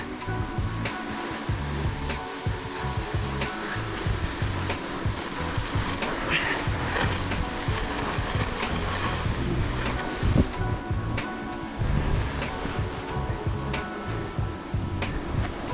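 A steady rushing, scraping hiss of someone glissading fast down snow on a Colorado 14er with an ice axe dragging, with gusty wind noise and occasional crunches, loud and close.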